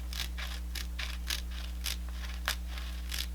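Scissors cutting fabric around a quilt appliqué outline: soft, repeated snipping and crunching strokes at an irregular pace, close and quiet over a steady low electrical hum.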